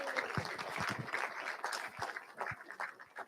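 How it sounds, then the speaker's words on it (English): Audience applause after a lecture presentation, a dense spread of clapping with a few sharper claps standing out, moderately loud, without talk. "Can we go ahead and give him a round of applause?"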